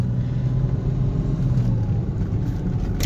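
Steady low rumble of a Porsche Boxster S engine and road noise from inside the moving car, continuous and fairly loud, no voices.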